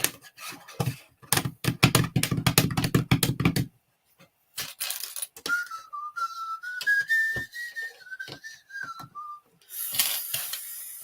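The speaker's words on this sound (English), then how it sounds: "Keep forgetting to not whistle, because I do whistle quite often" A person whistles a short wavering tune alone after a burst of rapid clattering and tapping, close and fairly loud, during a live build of a model throne room.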